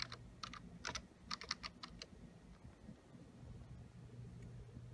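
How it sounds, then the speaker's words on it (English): Quiet bursts of keys being typed on a computer keyboard, a dozen or so quick clicks in the first two seconds, then faint background hum with no talking. "Then I type the rest of my name."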